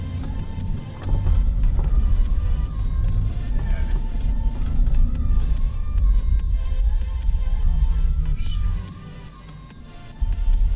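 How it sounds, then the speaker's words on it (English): The big rear wheels of a 1998 Chevrolet Suburban with a 5.7-litre 350 V8 on gasoline and LPG make a steady low road rumble while driving on a Norwegian highway, briefly easing near the end. "Wheels in the back making noises."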